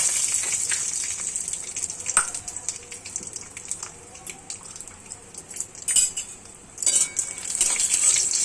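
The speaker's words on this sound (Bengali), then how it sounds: "কাজুটা ফ্রাই করে নেব" Cashews frying in oil in a wok on a gas stove, soft bubbling sizzle under repeated clinks and scrapes of a utensil against the pan, with brief louder hissing bursts.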